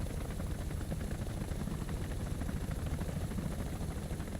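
Steady, close rotor thrum and whine of an AB-205A1 helicopter in War Thunder, a continuous even chop that holds at constant loudness with no speech.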